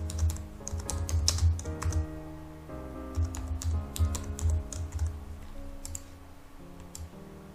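Typing on a computer keyboard, with close, crisp key clicks in fast bursts and short pauses, over a steady background of soft music with no speech.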